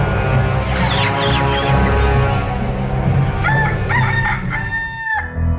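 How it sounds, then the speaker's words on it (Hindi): A rooster crows loudly in a long, rising cock-a-doodle-doo that ends in a sharp, strained final note. Clucking and farmyard noise from other chickens run beneath it. "कहते हैं मुर्गा जब बांग देता है तो सवेरा होता है"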